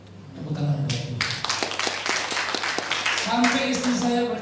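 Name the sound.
church congregation applauding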